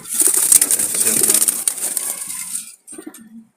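Jalali pigeons coo in soft, low murmurs close by, with a brief flutter and a short pause before the cooing resumes.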